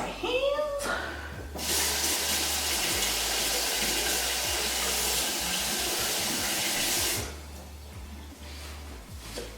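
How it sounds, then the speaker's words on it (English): Water runs steadily from a tap for several seconds while hands are washed beneath it, a continuous close hiss that starts abruptly and cuts off near the end, with faint rustling around it. "Let me wash my hands."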